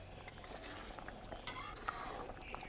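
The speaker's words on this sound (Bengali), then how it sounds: "মাছটা দিয়ে কিছুক্ষণের জন্য জাল করে নেব" Rui fish frying briefly in a pan, a soft close sizzle broken by light clinks and scrapes of a utensil against the pan.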